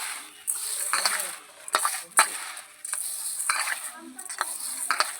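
Rice being mixed by hand with salt and a spoonful of water in a bowl for puffed rice, giving soft continuous rustling and stirring with scattered clinks and crunchy scrapes, close and moderately loud.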